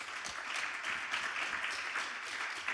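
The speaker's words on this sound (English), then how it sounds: "we can give them a round of applause" Conference audience applauding the speakers at a cooperative-themed session, a steady wash of clapping at moderate, fairly distant level, holding evenly for the whole stretch with no voices above it.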